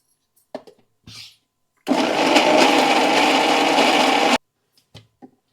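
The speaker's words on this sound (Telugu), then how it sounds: "ఒక్కసారి మిక్సీ పట్టుకున్నాను దీంట్లో ఎల్లిపాయలు వేసుకుని ఒకసారి మళ్ళీ ఒకసారి జుమ్ అని అయిపోద్దాం" A mixer grinder whirs loudly in one burst of about two and a half seconds, grinding tomato chutney with garlic, then cuts off, with a few soft clicks and taps before and after.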